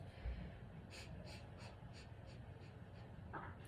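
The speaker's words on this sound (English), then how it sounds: "We're going to inhale 8 times," Eight quick sniffing inhalations during a yoga breathing exercise, a rapid, even series of short faint sniffs through the nose, close and quiet, with no talking.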